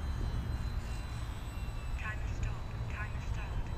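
A Hobbyzone Sport Cub S RC plane's electric motor throttling up in flight, a steady distant propeller whine heard outdoors under ambient noise, with a person talking over it.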